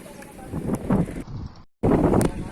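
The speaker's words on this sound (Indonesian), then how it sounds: "kita akan mengarungi tempat terbuka yang memang anginnya juga cukup kencang nih" Strong gusting wind buffets the microphone in an open area at the Wanajaya bike park in Cibitung, a loud rumbling roar that drops out briefly and then returns. No one speaks.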